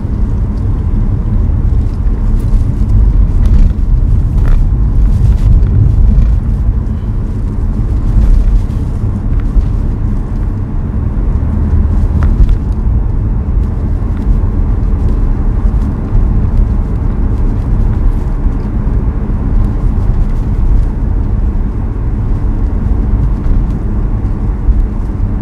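A car on a driving-test road course in Yongin pulls away and drives on, its steady engine and road rumble loud and continuous throughout with some wind noise, no talking.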